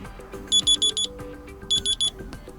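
An alarm clock melody plays from a UMIDIGI G5 Tab tablet, with two clear bursts of four quick, bright electronic beeps over a softer tonal background tune, loud and close with no voices.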